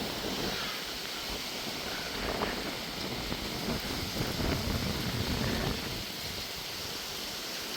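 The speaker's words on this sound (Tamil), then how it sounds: "ஆனால் காற்று கொஞ்சம் சரியான பலமாக அடிக்குது" Strong storm wind roars steadily into the microphone at a house, a dense continuous rush with slight gusting swells and no voices.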